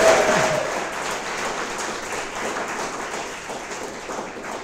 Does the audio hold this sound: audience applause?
yes